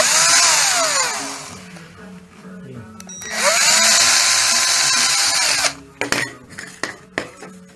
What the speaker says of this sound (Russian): возьмем сверлышко такое. И делаем отверстие.